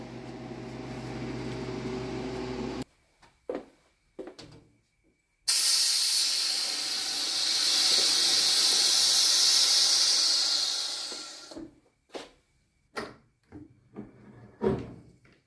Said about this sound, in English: our Stay Fresh freeze dryer is running. You can hear it's pretty quiet.